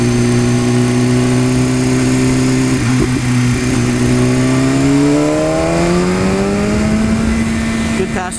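A 2015 BMW S1000RR sport bike engine drones steadily, then its revs climb smoothly and rise in pitch as it accelerates past a cement truck, heard close with constant wind rush.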